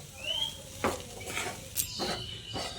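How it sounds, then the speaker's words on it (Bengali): Spoon stirring soybean chunks with ground spices in a pan for soyabean momo filling, giving a few scraping clinks against the metal over a soft sizzle, close and fairly quiet. "গুঁড়ো মশলাগুলো দিয়ে সয়াবিনের সঙ্গে ভালো করে নেড়ে চেড়ে মিশিয়ে নিতে হবে"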